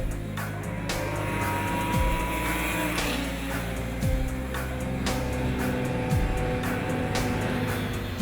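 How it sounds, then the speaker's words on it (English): Souped-up drag snowmobiles race on ice at the Lake Waconia vintage show, their engines screaming loudly and steadily, with the pitch dropping sharply about every two seconds as they shift. "Souped-up drag sleds on ice."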